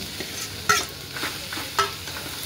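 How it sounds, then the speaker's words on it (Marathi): Potato cubes tossed with fried chili, turmeric and salt in a hot pan, a soft sizzle broken by two sharp spoon scrapes and stirring clinks, no talking. "आता मिरची चांगली परतली, आता टाकून घेऊया बटाटा आणि हळद आणि मीठ।"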